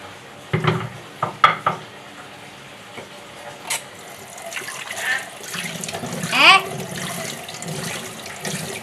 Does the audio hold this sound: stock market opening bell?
no